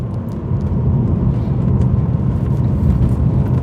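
BMW 330Ci Clubsport engine on a road drive, a loud, steady low rumble and whir of engine and tyres heard from inside the car, constant throughout with no speech.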